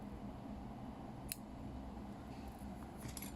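Scissors snip through fly-tying material while a dancing nymph fly is tied, one sharp cut near the middle and a couple of lighter snips near the end over a low steady background hum.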